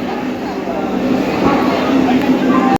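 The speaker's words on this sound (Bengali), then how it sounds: "ফাইনালি ট্রেন ছেড়ে দিল" Inside a Vande Bharat semi-high-speed train pulling out of the platform, a low steady rumble of the moving train carries on under voices.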